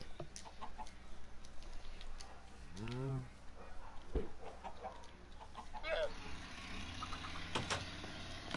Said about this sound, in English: Where'd that chicken go?